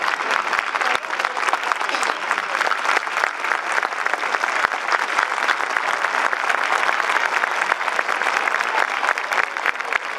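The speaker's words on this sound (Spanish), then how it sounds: "un aplauso." Loud, sustained applause from an audience at a veterans' ceremony in Argentina honoring Malvinas war veterans, dense continuous clapping over ten seconds with a few sharper claps standing out.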